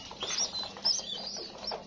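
Pigeons in a pigeon loft, a steady mix of soft cooing and light chirps, fairly close and continuous throughout.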